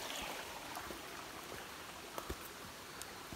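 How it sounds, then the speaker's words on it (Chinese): A small stream flows across a hiking trail near Tai Po Kau. The water babbles softly and faintly, with a few light splashes and ticks, and no talk. "試下過呢條小溪啊"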